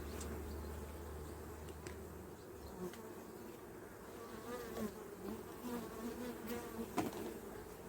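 Honeybees buzz steadily around a hive and a mini-plus nucleus colony, with a dense drone of many insects. Individual bees whine closer now and then, and a few soft knocks and handling sounds come through.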